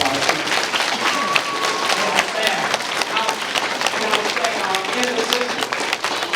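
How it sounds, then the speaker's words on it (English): An audience at a school character recognition event claps for outstanding teachers, a full round of crowd applause with sharp individual claps throughout and voices talking over it. "Let's give them a round of applause"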